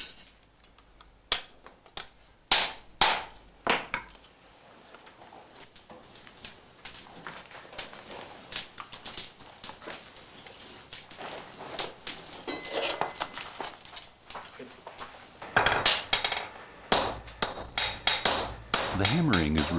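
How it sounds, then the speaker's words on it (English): Red-hot tamahagane steel is struck on an anvil with 10-kilo hammers in a Japanese swordsmith's forge. Sharp, ringing blows fall in irregular bursts, with several loud strikes early on and a dense run of rapid hammering near the end. "The hammering is repeated several times."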